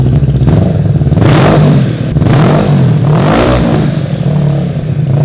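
A Kawasaki Ninja motorcycle with its exhaust baffle removed revs loudly and up close, with several sharp surges of a raw, unmuffled engine roar rising and falling in quick succession.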